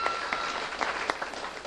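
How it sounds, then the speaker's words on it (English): An audience at a Scór Sinsear county final in Leitrim applauds steadily, a dense, continuous clatter of many hands with scattered sharper claps standing out and no voice over it. "You can give yourself a full applause because you were absolutely fantastic tonight"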